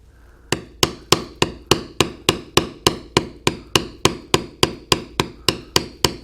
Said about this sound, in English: use the pointed beveler and just going slightly over where our cut was